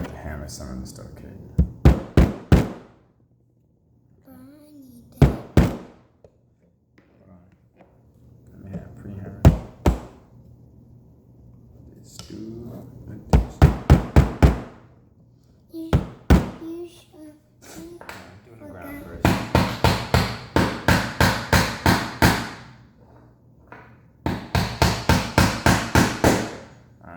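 Wooden Build and Grow monster truck kit parts being hammered together, sharp knocks landing in quick bursts of several blows with pauses between, growing into longer rapid runs toward the end, with a voice and adult talk in the gaps.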